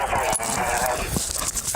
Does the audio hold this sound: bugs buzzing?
no